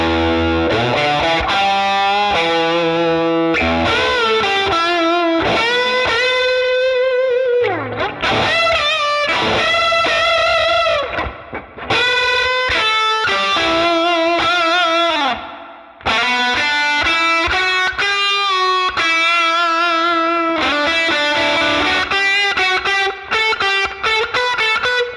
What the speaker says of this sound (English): Let's add some spring reverb.